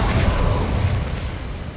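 A fire spell cast in Hogwarts Legacy gives a short, dense burst of roaring, crackling noise that stays loud and steady for under two seconds, with no talk over it.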